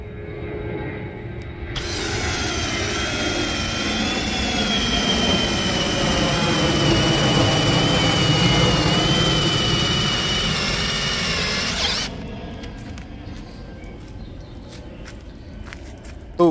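A DCK KDJZ23i 12V brushless drill runs for about ten seconds with a loud, steady motor whine that starts and stops abruptly, its pitch sagging slightly in the middle, then quiet room noise follows.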